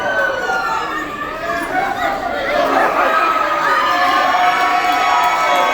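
A crowd cheers and shouts loudly in support of a contestant at a wrestling event, a sustained roar of voices with whistles and rising excitement, a commentator's voice talking over it.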